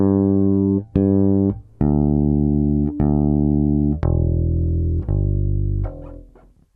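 Bass guitar plays a series of sustained notes, each cleanly cut off by fretting-hand muting before the next, giving separate, distinct notes that fade at the end.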